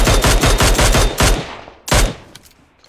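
Rapid automatic gunfire in a video game, a loud close burst of repeated shots followed by a short pause and one more brief volley trailing off.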